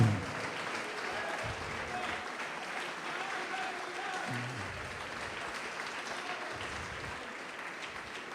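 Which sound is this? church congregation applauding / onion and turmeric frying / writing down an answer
church congregation applauding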